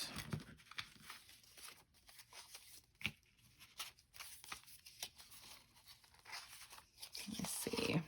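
Scissors cut paper for a small ephemera booklet, producing soft, intermittent snips and crinkles close by, with quiet rustling and pauses between cuts.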